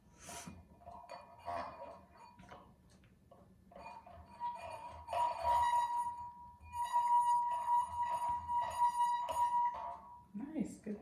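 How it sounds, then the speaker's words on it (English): Drinking glasses are struck to make ringing tones in a kitchen science activity, producing sustained bright chimes and clinks, some sounding together, with people talking quietly around them. "Which glass do you think made the good sound that you like?"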